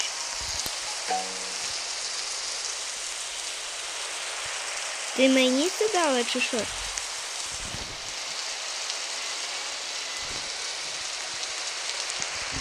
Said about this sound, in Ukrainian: Ой, дощ.